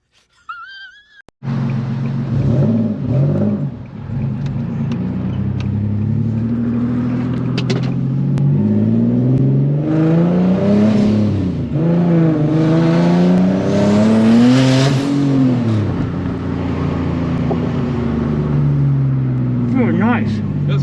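A boosted Nissan 370Z pulls hard from close by, its exhaust note climbing through repeated rising sweeps with the turbo spooling, loud and continuous for most of the run, with occasional voices inside the car.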